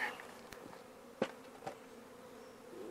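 A swarm of honeybees hums steadily near a queenright hive, a soft continuous drone with a few brief clicks and knocks rising over it.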